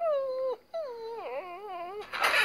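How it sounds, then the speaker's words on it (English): A dog whimpers in drawn-out, wavering whines, one long cry, a brief gap, then a second sliding, quavering cry, close and clear with no talk. "But as for you, Santa's little helper, you are a selfish coward and a bad dog."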